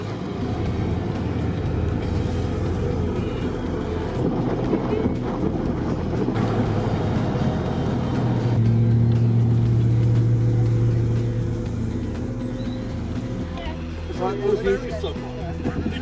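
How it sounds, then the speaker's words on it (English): Ford Mustang driving up a hill, its engine a steady low rumble with wind buffeting, a droning tone rising midway, heard from inside under continuous talk. "we are now going to have a cruise up to the top of the hill in Mutant Mustang."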